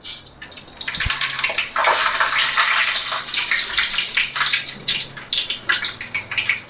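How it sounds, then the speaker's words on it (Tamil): Mustard seeds crackle and pop in hot oil in a pan while a carrot, beans and capsicum curry is cooked. The sound is a dense, loud, continuous sizzling spatter with bursts of crackle throughout. "கடுகு நல்லா பொரிஞ்சிடுச்சு"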